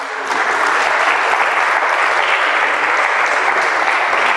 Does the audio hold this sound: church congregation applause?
yes